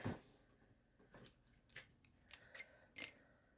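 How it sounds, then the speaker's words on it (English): Scissors cut off a piece of paper for a sticky-note holder in a handful of crisp, separate snips spread over a few seconds, close and quiet. "I think I'll cut that off."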